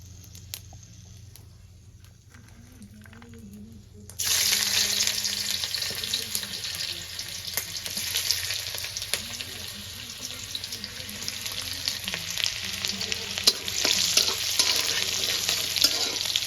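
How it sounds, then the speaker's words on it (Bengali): Chopped garlic hits hot oil for an egg and prawn chow mein, bursting into a loud, steady sizzle after a quiet few seconds and crackling continuously up close with occasional stirring clinks. "রসুনটা আমি হালকা একটু ভেজে নেবো"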